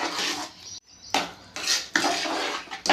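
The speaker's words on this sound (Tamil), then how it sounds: "நல்லா சாதத்தோடு அஞ்சு நிமிஷம் கிளறி விடுங்க" Repeated scraping and clanking of a spoon stirring thick rice and semolina pongal in a metal pot, in several close, loud bursts with brief pauses.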